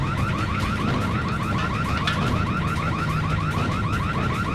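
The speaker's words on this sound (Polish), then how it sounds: "Alarm." An alarm blares in a video game, a loud continuous warbling siren with a rapid repeating rise-and-fall pattern that stays steady over constant background noise.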